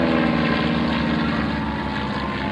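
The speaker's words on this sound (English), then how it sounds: "Now the T-34 cruises at about 140 miles an hour." A T-34 two-seat trainer with a propeller engine passes at an air show, giving a loud, steady drone that holds for the whole stretch with no talk.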